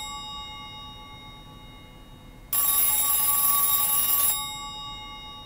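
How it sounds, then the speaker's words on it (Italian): A ringing telephone in the video game Silent Hill 3, a single bright, steady metallic ring lasting under two seconds that cuts in abruptly over a quiet background hum. "Ma cos'è sto telefono?"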